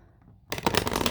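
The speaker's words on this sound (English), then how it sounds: "I will do a shuffle and we'll set our intentions during the shuffle" Tarot cards being shuffled by hand, a dense riffling flutter that starts abruptly after a quiet moment and continues steadily, close and fairly loud.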